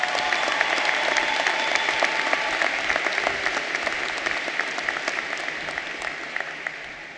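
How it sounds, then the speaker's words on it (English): Audience applause fills the room at a steady, dense level, many hands clapping together and gradually tapering off slightly toward the end, with no voices standing out. "Can I have one more round of applause for them before they sit back down?"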